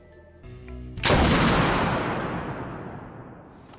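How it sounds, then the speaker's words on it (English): A single loud gunshot in the video game Spec Ops: The Line, fired at Conrad, cracking sharply after a faint tone and leaving a long, slowly fading reverberant tail. "So what happens if you shoot Conrad?"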